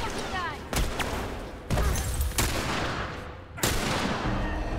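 Several loud, separate gunshots ring out at irregular intervals in a fight in the game The Last of Us Part II, each one a sharp crack over a low background with faint voices.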